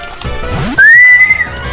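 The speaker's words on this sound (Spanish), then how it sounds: "¿Por qué me entran tantísimas ganas de silbar cuando estoy en el campo?" A person out in the countryside whistles a short phrase. The sliding notes are close and loud, ending in one sustained tone, with no talking.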